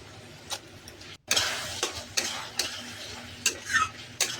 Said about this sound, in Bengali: টক দইটা দিয়ে ভালো করে কষতে হবে।